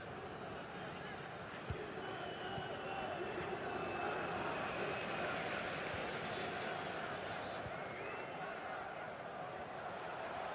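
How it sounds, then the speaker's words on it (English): Stadium crowd in the football video game EA FC 24, a dense, steady roar of spectators that rises slightly in the middle and holds for the whole stretch, with no talking. "The crowd urging him to shoot"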